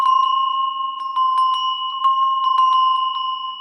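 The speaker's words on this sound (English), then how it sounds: "I had these two Noah bells." A pair of brass Noah bells, slightly out of tune with each other, is struck repeatedly, producing clear, close, sustained ringing tones with an uneven, beating shimmer and no talking.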